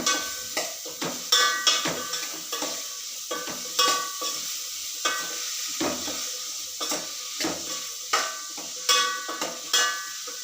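Chopped onions frying in hot oil in a pan on a gas stove for an onion sabzi, with a steady sizzle under repeated stirring scrapes and clinks of a spoon against the pan, close and fairly loud with no talking.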